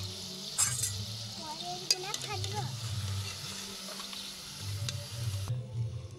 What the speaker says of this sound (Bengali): একে একে এইরকম ভাবে সবগুলো আমি ভেজে নেব।